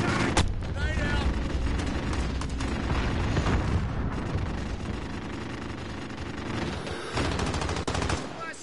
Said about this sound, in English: Dropping grenades. Contact! Grenade out!